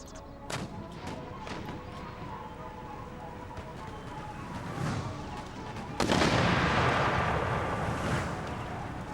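Cannon artillery fire in the Empire: Total War battle game, a steady rumbling barrage of booms with a sharp, loud burst of blasts about two thirds through, dense and continuous.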